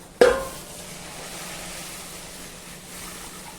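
Hot water poured into simmering curry gravy for a telvadi dish hits with a sudden loud splash and hiss, then settles into a steady, softer bubbling sizzle, with no one talking.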